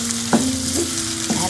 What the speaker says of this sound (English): The onions are cooking.